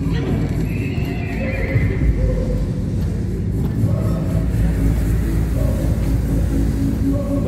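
A horse exhibit at an Expo pavilion gives loud whinnies over a steady clip-clop of hooves, close and continuous, with a low rumble beneath.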